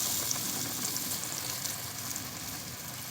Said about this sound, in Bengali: এইভাবে ডুবাবো আর তেলে ছেড়ে দেবো।